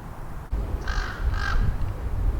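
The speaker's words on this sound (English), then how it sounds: "there's a crow" A crow caws twice in the background, two short harsh calls under a steady outdoor urban rumble, with no voices.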